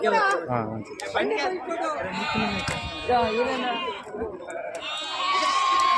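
Several sheep bleat close by at a sheep market, overlapping calls one after another, while people talk over the flock.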